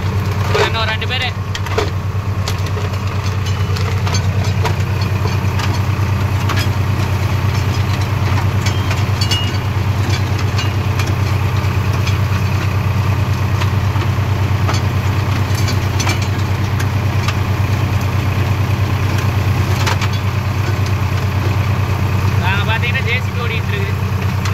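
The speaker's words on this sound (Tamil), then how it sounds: "ஜேசிபி ஓடிட்டு இருக்குது." A JCB excavator engine runs steadily nearby at a mulching site, a loud continuous low rumble with no letup, mixed with faint mechanical clatter and occasional higher clicks.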